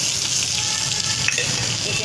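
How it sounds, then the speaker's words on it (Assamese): Ginger garlic paste fries in hot oil in a wok, making a dense, even crackling sizzle that carries on close by without a break. "ইয়াতে দিম মই এতিয়া আদা নহৰু পেষ্টখিনি"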